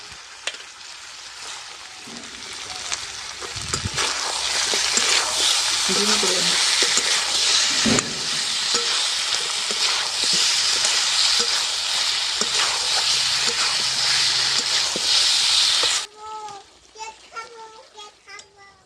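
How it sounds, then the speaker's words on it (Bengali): Meat and potatoes sizzle loudly in a pan with spices, a constant close frying hiss broken by stirring scrapes, cutting off abruptly near the end as a voice carries on faintly. "মাংস আর আলুটা অনেকক্ষণ ধরেই ভালোভাবে ভাজা হয়ে"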